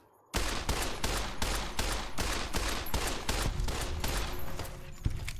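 Sustained submachine gun fire in a Fallout game, loud sharp shots in an even rapid rhythm after a brief quiet start, continuing for about five seconds with no voices.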